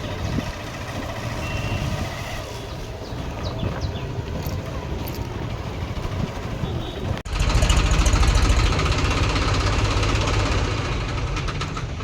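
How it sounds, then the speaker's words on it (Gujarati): A tractor engine drones steadily as it arrives to fill a pit beside a newly built concrete road, the rumble jumping louder and fuller about halfway through and staying there, with no voices. "આજે અમારે ટ્રેક્ટર આવ્યું ખાણ ભરવા"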